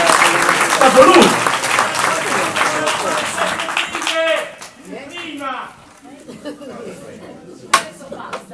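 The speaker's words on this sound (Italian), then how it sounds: "Facciamogli un applauso" A political rally crowd in Sardinia bursts into loud applause and cheering that fades after about four seconds, leaving scattered claps, chatter and a sharp knock near the end.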